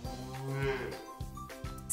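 Brown cows in a sunny meadow, one giving a long, close, low moo that rises and falls, followed by a second shorter moo.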